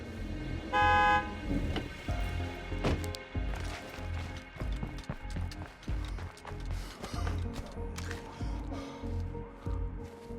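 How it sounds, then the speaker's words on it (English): Car horn honking in the video game State of Decay 2, a short clear toot near the start, followed by engine rumble, footsteps and game sounds. "we have to honk the horn next to their house"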